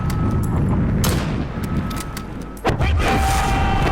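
Gunfire and explosions in the video game Modern Warfare come as booming bursts and cracks, with one heavy blast near the end, all over rumbling battle noise.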